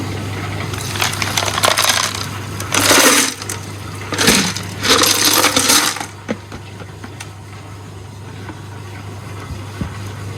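Tumble-polished chrysocolla stones poured out of a rock tumbler barrel, several loud clattering, rattling bursts of stones spilling, then quieter scattered clinks with a steady low hum underneath.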